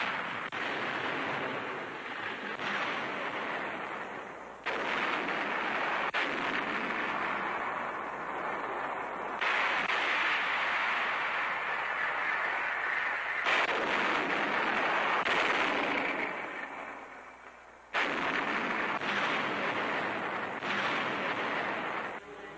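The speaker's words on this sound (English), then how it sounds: "The barrage begins." A British artillery barrage on Orsogna, Italy, rendered as a dense, roaring rumble of massed gunfire with abrupt shifts and booming surges, loud and continuous across the span on an old newsreel soundtrack.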